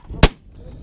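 A single gunshot, one sharp, loud and close crack that cuts off quickly, with faint background noise before and after.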